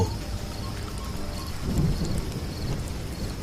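Steady rain hisses through a cartoon night scene, with a low rumble of thunder swelling briefly midway under the constant downpour; no one speaks.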